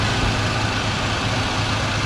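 1978 Ford F100 pickup truck engine idling steadily with a low, even rumble, close and constant with no talk over it.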